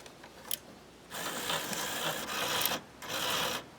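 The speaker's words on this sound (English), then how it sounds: "when it's low on cards, you'll hear it run that thing to try to suck a card up" A card dispenser mechanism running as it tries to pick up a card, giving a close, loud mechanical whirring and grinding in two bursts, each a couple of seconds long, separated by a short gap and preceded by a faint click.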